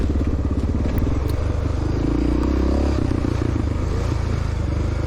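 A 1993 Honda XR600R motorcycle engine drones steadily and loudly throughout a cross-country race, its rough thumping note shifting slightly in pitch with throttle changes, with some clatter and scraping mixed in.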